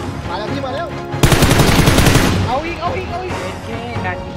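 Rapid automatic gunfire from the battle royale game PUBG bursts loudly for about a second in the middle, with excited voices talking over and around the shooting.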